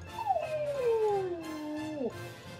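Dog howling close by in one long, wavering howl that slides downward over about two seconds and ends with a short dip, with no talking over it.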